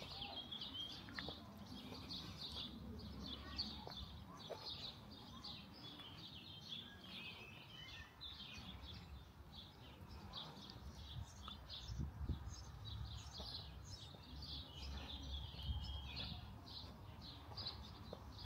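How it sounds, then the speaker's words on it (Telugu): Birds chirp and twitter steadily in a green German village, a continuous chorus of small calls at moderate distance over a low outdoor rumble, with no talking. "పక్షుల కిలకిలా రావాలి వినబడుతుంటే"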